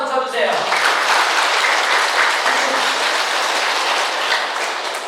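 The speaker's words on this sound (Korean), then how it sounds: "전 세계 모든 성령 쇄신을 박수 한번 쳐주세요" A large audience at a Catholic Charismatic Renewal lecture breaks into loud, dense applause that fills the room and carries on steadily, with faint voices mixed beneath it.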